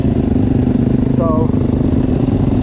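A Yamaha YZ250F dirt bike engine runs loud and close with a rough, steady throb, while a voice speaks briefly over it.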